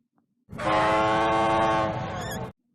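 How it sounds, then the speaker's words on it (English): A loud, sustained steam whistle blows for about two seconds, rich and breathy, starting and stopping cleanly against near silence. "Listen to that whistle"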